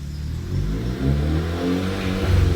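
VW car with a DQ200 dual-clutch gearbox accelerating through its gears, engine note rising in steps with brief dips at each shift, heard from inside the cabin at moderate volume without speech.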